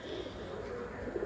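Kalanka pigeons cooing softly and steadily through a short stretch, a low murmuring coo close by with no voices over it.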